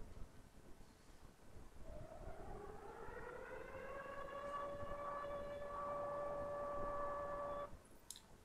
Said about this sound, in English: our little siren's going to go off and it's going to warn us that it's coming